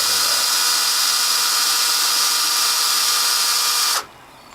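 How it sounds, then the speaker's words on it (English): A power drill bores through a pipe with a loud, steady high-pitched whine for about four seconds, then cuts off abruptly, leaving near silence. "I'm going to keep on drilling every couple inches through the rest of the pipe"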